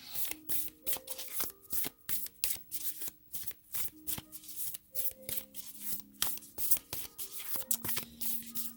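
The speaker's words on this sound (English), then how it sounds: "we'll pull a Super Attractor card for you" Super Attractor oracle cards are shuffled by hand, giving a steady run of soft, quick riffling slaps repeating close by at a moderate volume, with no talking.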